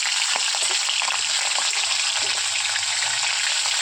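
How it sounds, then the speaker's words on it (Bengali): Fish heads fry in mustard oil in a wok, giving a steady, dense sizzle with faint crackle that runs unbroken at close range. "এখানে প্রথমেই দিয়ে দিয়েছি আমি কড়াইয়ের মধ্যে একটু সর্ষের তেল। তো এর মধ্যে আমি এখন দিয়ে দেবো মাছের মাথাগুলোকে।"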